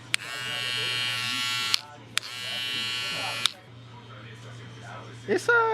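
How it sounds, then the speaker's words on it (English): A small cordless hair trimmer switched on, giving a steady close electric buzz in two bursts separated by clicks of the switch, with a low hum underneath and a short handling noise at the end. "This is the trimmer. Turn it on. This is what it sounds like."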